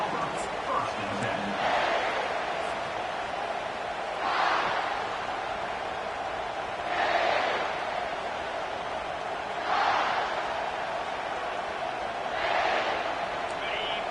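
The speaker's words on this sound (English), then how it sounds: "This crowd trying to show them what it's going to be like all day in this house." Stadium crowd noise from the NCAA 25 college football video game, a steady roar with swelling cheers rising and falling about every three seconds while commentary talk continues over it.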